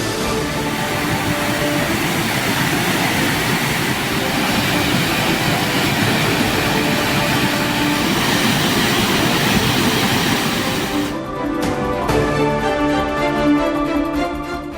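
The Ooty mountain railway train runs between Mettupalayam and Udhagamandalam, a steady loud mechanical rumble of wheels and engine that continues throughout, with clanking at the end.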